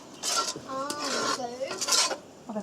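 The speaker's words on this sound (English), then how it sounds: "So now we're gonna mix the sugar and let's see." A utensil scrapes and clinks against a bowl as sugar is stirred into a homemade chocolate mix made from cocoa beans, close and continuous with a few squeaky rubbing strokes and a short pause near the end.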